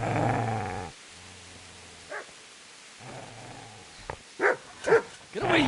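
In the video game Kingdom Come: Deliverance, a dog lets out a low, rumbling growl, goes quiet for a moment, then gives a few short, sharp barks and yips close by, with no talk over it.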